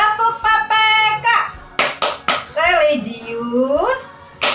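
A class of young pupils in a primary school classroom performs a rhythmic clapping chant, with bursts of hand claps alternating with the children's sung and chanted voices.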